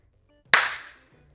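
A single sharp hand clap rings out alone in a quiet room, a crisp snap followed by a short decaying echo.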